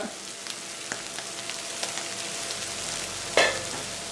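Chicken liver fried with salt, coriander powder and chili powder is stirred steadily in a pan, a continuous close sizzle broken by soft scraping strokes and one sharper clatter near the end.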